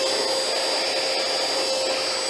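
A cordless XREXS handheld vacuum sucking pet hair from carpet, a loud, steady high-pitched motor whine with airy suction hiss, close and continuous.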